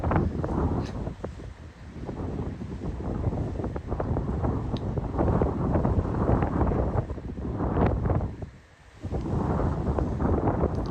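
Strong wind buffets the microphone outdoors by Dunure castle on the coast, a loud continuous rumbling roar that surges and briefly drops near the end, with no talking.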